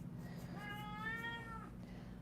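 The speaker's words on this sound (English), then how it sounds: "So Freckles is my cat" Pet cat giving a single drawn-out meow, rising then falling, close and fairly quiet over a low steady indoor hum.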